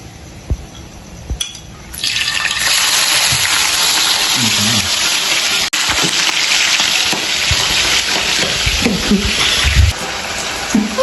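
Century Tuna hitting hot cooking oil on a stovetop, a few clicks and then a loud sustained sizzle that continues steadily, with occasional faint thuds.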